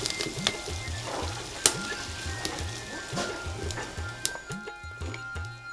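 Mustard paste fries in a pan for a stem dish, giving a steady sizzle with sharp pops and spatters, along with a low, rhythmic, repeating tone in the background.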